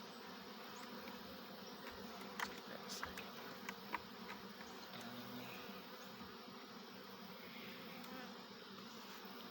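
Honey bees buzz steadily around a hive, a dense continuous drone from many insects close by with a few louder passes near the ears, no talking.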